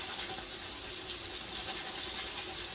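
Water runs steadily from a faucet while a sheet pan is rinsed, a constant close rushing flow with no talk.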